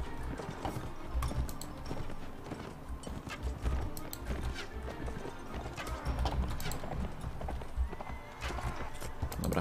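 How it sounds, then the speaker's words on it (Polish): Horse hooves clip-clop steadily in the medieval combat game Mount & Blade Warband, with the rhythmic hoofbeats mixed into a dense, busy battlefield din of clanks and scattered whinnies. "Czy głupi koń jeszcze będzie mnie tu blokował?"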